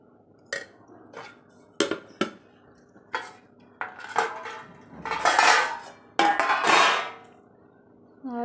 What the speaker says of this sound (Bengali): তো ওর জন্য এখন ভাত বেড়ে নিচ্ছি।